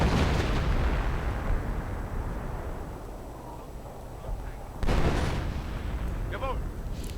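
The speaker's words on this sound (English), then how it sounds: "He's really laying it on thick with the artillery" Howitzer artillery in a 1v1 real-time strategy match, heavy booming shots over a dense rumbling battle bed, with a sharp fresh blast about two-thirds through and a faint whistling tone after it.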